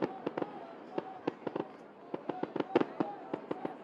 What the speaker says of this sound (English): This fireworks show is still going.